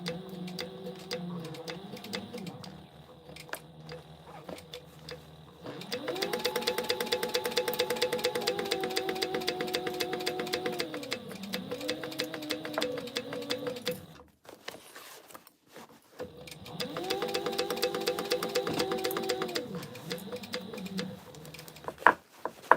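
Sewing machine stitching a half-inch seam on small crossbody bag linings, running in two long steady bursts with a pause between, close and moderately loud with no talking.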